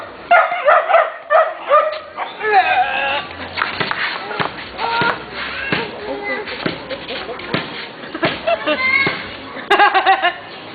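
A dog barks and yips in short, repeated bursts close by during an outdoor basketball game, mixed in with people shouting and talking over it.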